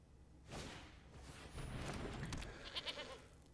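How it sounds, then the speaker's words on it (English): A goat bleats in an MTG Arena card game, a wavering animal cry sounding clearly over a soft whoosh, with no talk. "All right, the stupid goat."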